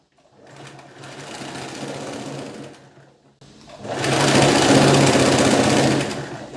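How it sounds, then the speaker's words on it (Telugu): Sewing machine running a double line of stitching on a princess-cut blouse fabric, a steady loud mechanical whir in two bursts, a short pause between them and the second run louder and longer. "ఇప్పుడు దీన్ని కూడా డబల్ స్టిచ్ అనేది వేసేసుకుందాం"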